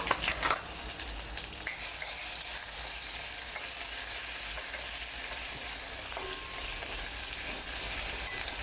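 Grated garlic and ginger fry in a pan with a loud, steady sizzle. After an initial clatter of tossing in, it hisses continuously with faint stirring scrapes and no talk.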